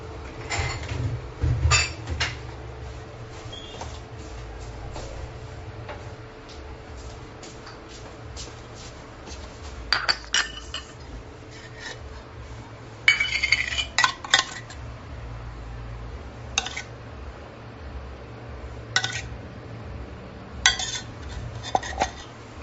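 Plating a dish of steamed bread with a yoghurt-based accompaniment and desi ghee: scattered clinks and taps of cutlery and dishes, with soft shuffling between louder clusters of contact sounds, close by and without talk.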